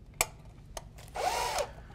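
A resistance microdrill bores into a timber bridge member, with a few sharp clicks and taps followed by a half-second whirring drill run that rises and falls in pitch, close and fairly loud against a low hum.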